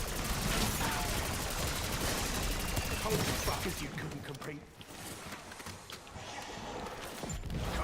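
A grenade explodes during a firefight in a shooter video game, set within dense, continuous gunfire that fills the first half before dropping to a quieter, rumbling aftermath.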